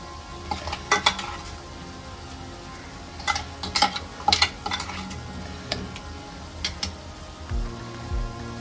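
Onions fry in a pan with marinade spices, a soft steady sizzle broken by clinks and scrapes of a spoon stirring against the metal in irregular bursts.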